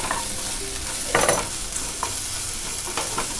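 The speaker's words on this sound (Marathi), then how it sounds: "आता ही आलं लसूण चांगली परतून घेतली आहे." Ginger and garlic sauté in a hot pan, a close, even sizzle broken by a few brisk spatula stirs and scrapes, with no one talking.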